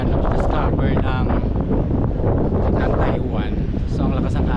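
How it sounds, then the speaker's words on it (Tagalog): Strong cold winter wind at a temple in Taiwan, buffeting the microphone in loud continuous gusts that roar and rustle throughout. "So ang lakas ng hangin dito, ang lamig-lamig."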